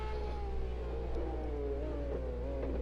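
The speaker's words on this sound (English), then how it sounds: "I love the way that car sounds." A racing car engine in the video game Project CARS drones steadily at high revs, its pitch sliding gently as it holds a sustained, fairly quiet whine alone.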